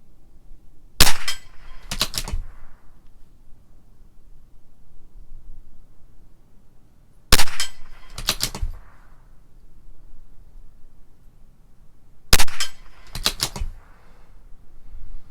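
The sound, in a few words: rifle gunshots, CZ 457 LRP with Norma Tac-22 ammunition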